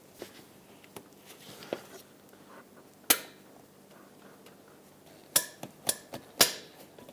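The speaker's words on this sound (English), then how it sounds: "I'll find anything that fits in here so I can tap it in." A socket is tapped onto a bolt during water pump work on a 2006-2011 Honda Civic: a handful of sharp metallic knocks, a lone strike and then a quick cluster of close taps over a quiet background.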